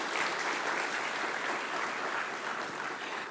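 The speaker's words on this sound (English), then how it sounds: "Let's give a round of applause to the Campus Principal" Steady, dense applause from an audience at a university research awards ceremony, held at an even level throughout with no pauses, a warm welcome for the Campus Principal.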